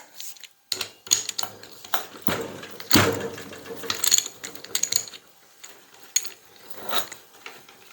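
Ratchet wrench loosening a 13 mm hose spout fitting on a John Deere Z920M zero-turn mower with a hydraulic oil leak, close, irregular bursts of rapid clicking with brief pauses and small metallic taps.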